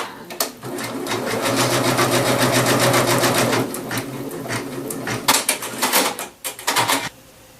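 A sewing machine stitches a line on a navy blue bus card holder, running in a steady, loud, rapid mechanical chatter for several seconds, then slowing into shorter bursts and stops up close.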